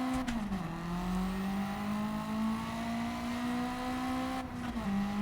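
A car's engine revs in the Gran Turismo racing game, a steady sustained drone whose pitch climbs and then holds, briefly dipping twice as the throttle eases, loud and close with no talking over it.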